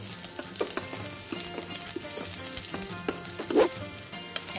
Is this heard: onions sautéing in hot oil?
yes